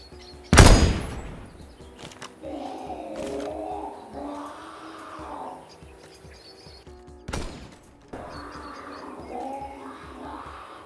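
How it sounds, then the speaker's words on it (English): Gunfire aimed at a well in Rainbow Six Siege: two loud, abrupt bursts several seconds apart, each followed by a warbling, echoing tone that lingers and fades. "you can just start shooting the crap out of it like you see me doing here"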